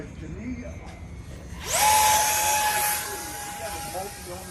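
A Hobbyking 50mm F-16 Falcon RC jet takes off, its electric ducted fan spooling up into a loud, steady high-pitched whine that holds for about a second, then eases off.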